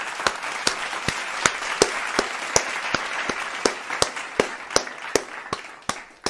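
Scattered hand claps from a small audience, sharp separate slaps in an uneven, sparse rhythm, close by and moderately loud, with no talking.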